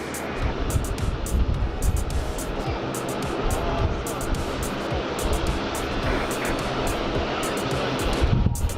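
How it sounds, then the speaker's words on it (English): Steady, broad jet roar from an airliner taking off at Sydney Airport, a continuous rumbling wash of engine noise that holds through the whole stretch, with a voice talking over it. "They're clear for takeoff now."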